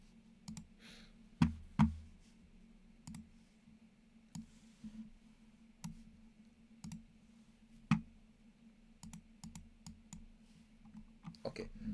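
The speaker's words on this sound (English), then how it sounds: "I will click on this link for more information" A computer mouse clicks on a link: sparse, sharp little clicks spaced irregularly over a quiet background, close and faint.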